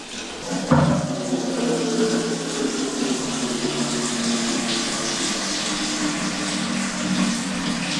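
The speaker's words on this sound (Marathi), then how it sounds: "प्रेशरने मी सर्व पाण्याने धुवून काढतो" A brief knock, then a forceful pressure jet of water hisses and splashes steadily against dishes, loud and continuous to the end.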